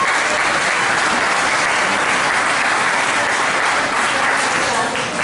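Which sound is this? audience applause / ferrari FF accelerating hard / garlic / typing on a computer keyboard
audience applause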